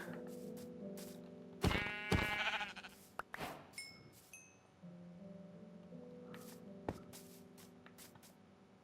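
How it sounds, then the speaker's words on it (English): Sheep in the Minecraft video game bleat several times in short, clear calls, with other soft game sounds scattered between them. "Oh, a sheep."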